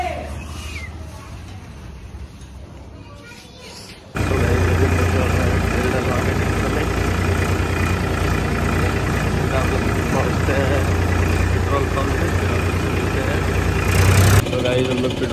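Tractor diesel engine running steadily while being driven to a fuel station, a loud continuous rumble that starts abruptly after a quieter opening and holds to the end, with a brief louder surge near the finish.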